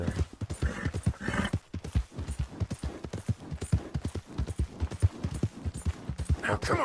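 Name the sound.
horse hooves walking in video game Red Dead Redemption 2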